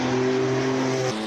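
A classic Porsche race car blasts past at a Cape Town hill climb, its loud engine note holding steady close by and then dropping in pitch as it pulls away.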